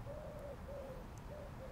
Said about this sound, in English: I think there's an owl over there.